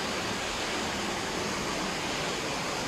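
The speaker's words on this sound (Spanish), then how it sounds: "acá pues está la cascada que ahorita va a explicar el maestro" A waterfall in Catemaco roars as a constant, broad rushing wash with no voices over it.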